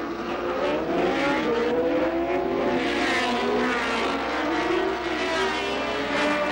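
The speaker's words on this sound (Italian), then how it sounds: "Super Fast, le piste veloci per auto super veloci." Matchbox toy cars race around a Super Fast track with a continuous whirring, revving drone of small motors, loud and steady throughout, with shifting pitch sweeps.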